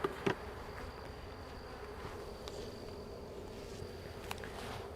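Honeybees buzz steadily around an open hive during an inspection after a new queen was introduced, a faint continuous hum with a few brief nearby knocks.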